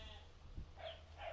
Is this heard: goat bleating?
yes